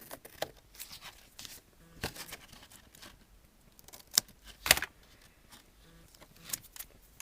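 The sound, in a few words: scissors trimming card stock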